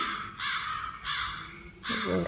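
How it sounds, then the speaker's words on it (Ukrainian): Crows cawing in a Minecraft world, three loud harsh caws spaced about evenly, fairly close, with a faint low background rumble and no talk over them. "Ворони каркають"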